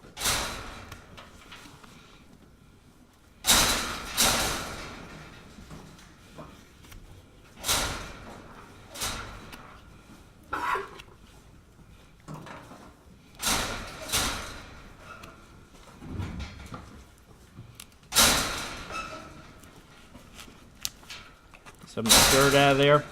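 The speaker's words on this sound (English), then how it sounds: "these goats are just sitting there in the back, beating on the wire in between the two pins" Goats on a farm butting and beating against a wire fence between two pins, a series of sharp metallic bangs and rattles repeating irregularly every few seconds at moderate distance, with quiet background noise between hits.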